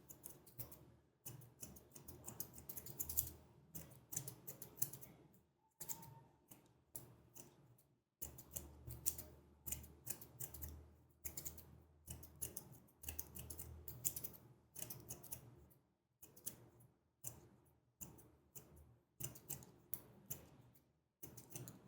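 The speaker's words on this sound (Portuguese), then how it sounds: "Só a pontinha do pente, só a pontinha da tesoura." Hair clippers and scissors working through a mid fade at a barbershop, with rapid crisp snipping in bursts and short pauses, close to the mic and with no talking.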